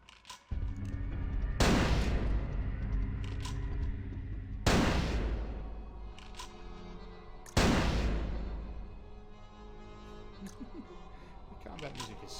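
Gunfire in Vampire: The Masquerade – Bloodlines from an enemy with unlimited bullets: three loud, sharp blasts spaced about three seconds apart, each trailing into a long booming decay over a steady background hum.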